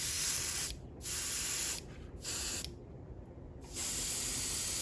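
An airbrush sprays paint in light coats over a tabletop miniature, a Pink Horror, giving a steady close hiss broken by three short pauses as the trigger is released; no one talks.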